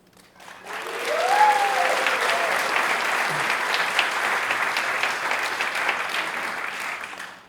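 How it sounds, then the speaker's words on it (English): A conference audience breaks into sustained applause and cheering to welcome returning masters of ceremony, swelling quickly and holding as a dense, loud wash of clapping before tapering off at the end. "We start with a huge cheer for returning Master of Ceremony John and Rebecca."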